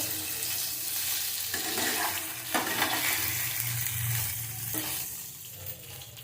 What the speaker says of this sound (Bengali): আমি এবারে ভালো করে এটা মিশিয়ে নিলাম